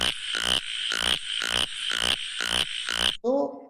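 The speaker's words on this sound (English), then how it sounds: "Very small frogs, but very loud. I have one video of them calling." A chorus of very small but loud Mymensingh frogs calls in Bangladesh, about seven rapid pulsed bursts in regular rhythm, close and loud, followed by a different short croaking call.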